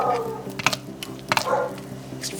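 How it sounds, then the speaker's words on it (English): A dog barks outside in a few short, separate bursts that sound somewhat distant, over a low background hum. "And now she's barking outside."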